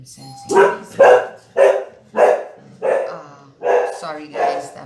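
A dog barks seven times in a steady, evenly spaced run, loud and close indoors, each bark sharp with a slight whining tone.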